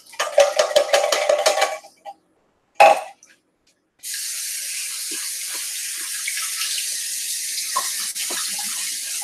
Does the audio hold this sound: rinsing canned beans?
yes